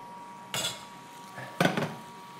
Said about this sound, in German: jetzt nehmen wir die Pfanne für unser Rinderfilet